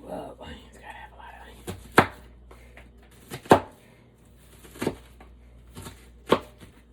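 Knife chopping onions into big chunks on a board: four sharp, separate chops spaced over several seconds, with quiet handling noise and faint murmuring between strikes.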